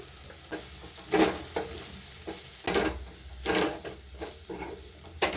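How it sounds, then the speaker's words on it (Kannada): Homemade sambar powder frying in oil in a pan, with a steady sizzle and several louder bursts of stirring and scraping, close and without talk. "ಎಣ್ಣೆಲೇನೆ ಖಾರದ ಪುಡಿ ಹಾಕೊಂಡು ಫ್ರೈ ಮಾಡ್ಕೊತಾ ಇದ್ದೀನಿ."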